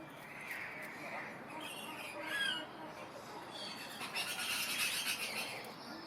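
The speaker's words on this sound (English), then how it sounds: "More exotic birds having a morning feed." Exotic birds at a wildlife park squawk loudly during a morning feed, with harsh overlapping calls rising and falling in bursts close by, under a busy background of rustling and faint murmuring voices.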